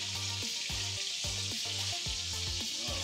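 A burger patty sizzles steadily in a hot pan, a constant bright frying hiss running without pause under a repeating low rhythmic pulse, with no voices.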